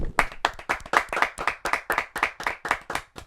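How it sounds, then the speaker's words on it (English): A small group claps together on a podcast set, roughly a dozen quick, close, loud claps in a steady rhythm, without any talking over them. "Round of applause on the Shack Tails."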